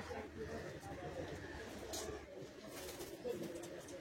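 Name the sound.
pigeons cooing in a loft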